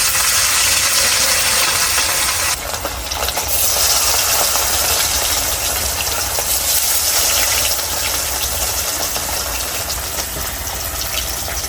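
Spiced rohu fish sizzles in hot oil in a wok, a loud, steady broadband hiss and crackle that runs without pause, close up and with no talk.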